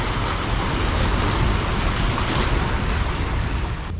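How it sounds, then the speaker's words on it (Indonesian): Large ocean waves break steadily against a breakwater, a continuous loud roar of surf and churning water filling the whole stretch without pause. "Pembatas untuk ombaknya. Cakep. Pecah ombak. Ombaknya besar."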